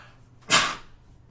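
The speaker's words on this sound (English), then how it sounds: "Ooh, had to sneeze." A single short, sharp sneeze bursts out in a quiet indoor room, loud and close, with a quick breathy onset that fades within half a second.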